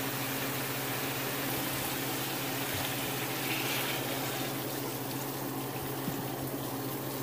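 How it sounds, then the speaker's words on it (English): Steady water running and splashing into a pot for chicken noodle soup, a continuous rushing flow under a low hum, with no voices. "at this point now I'm gonna add some water."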